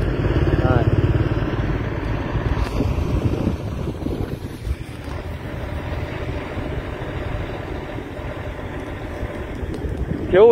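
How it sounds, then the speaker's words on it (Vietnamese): A motorbike engine drones on a road near a traffic checkpoint in Vietnam, blended with strong wind buffeting the microphone, while voices are heard. "Đấy, xe máy."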